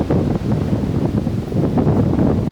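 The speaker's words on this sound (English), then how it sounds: "it's really windy" Strong wind buffets the microphone on an exposed hilltop walk among apple orchards, a loud continuous roar with gusting surges that cuts off abruptly at the end.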